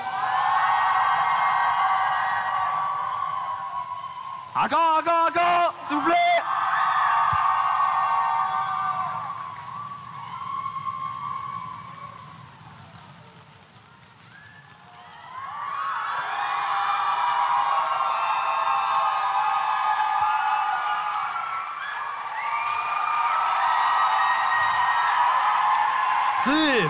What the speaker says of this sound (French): C'est-tu possible, tout le monde, faire un roulement de tambour sur ses jambes, s'il vous plaît?